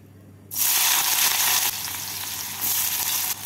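Chopped onion hits hot oil with a sudden loud sizzle that stays steady and close, easing slightly partway through before swelling again, with no voices.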